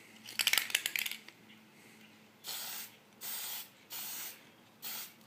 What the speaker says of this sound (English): I really like using these Model Master spray cans, because the shine is just really even and nice, it's easy to use